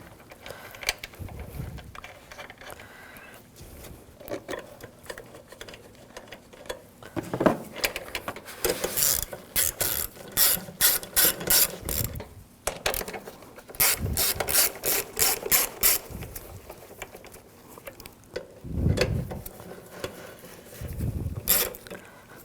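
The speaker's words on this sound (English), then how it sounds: "I'll put these screws in." Ratchet clicking in bursts as screws are tightened on the air intake of a 2007-2013 BMW 328i 3.0L inline-six, with rapid close pawl rattles separated by brief pauses and occasional handling thumps.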